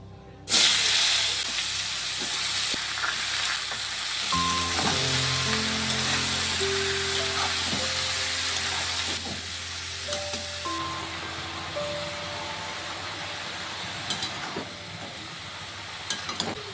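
Chopped young bottle gourd drops into hot oil tempered with whole cumin, dried red chillies and bay leaves. A quieter sizzle swells into a loud, sustained hiss once the gourd lands, over faint steady tonal notes in the background.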